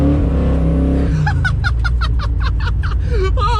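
A muscle truck spins its tires, a loud engine roar with a rising, pulsing tire squeal that comes in repeated rhythmic bursts after a second of low rumble.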